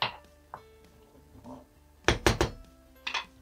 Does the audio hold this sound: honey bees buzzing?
no